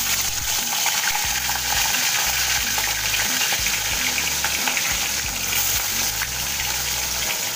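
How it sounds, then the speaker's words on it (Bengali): Catla fish pieces fry in hot oil with a loud, dense, constant crackling sizzle that fills the whole stretch, heard up close with no speech. "মাছগুলোকে আমি এক এক করে ছেড়ে দেবো"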